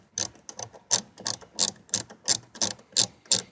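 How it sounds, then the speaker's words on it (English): A hand ratchet loosening 10 millimeter screws on a car side mirror gives a quick series of about ten sharp clicking pulls in a steady rhythm, close and clear. "we're going to remove the 3 screws. These are 10 millimeter. Go ahead and loosen that up."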